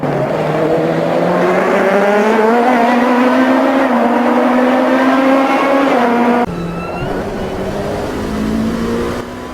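A Gibson 4.2 litre V8 naturally aspirated race car engine in the Automobilista 2 racing game, revving hard and climbing through the gears with a loud, close, rising whine, then a shift and renewed acceleration.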